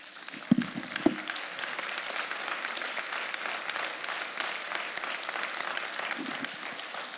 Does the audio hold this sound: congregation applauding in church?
yes